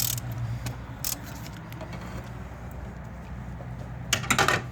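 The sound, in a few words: loosening engine mount bolts on a Mazda Tribute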